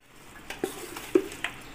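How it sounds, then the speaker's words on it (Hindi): A spoon scrapes and stirs chicken into an oil and spice marinade in a bowl, giving a few soft, close knocks and wet scrapes at a quiet level with no talking. "अब हम इसको अच्छी तरह से मिक्स करेंगे"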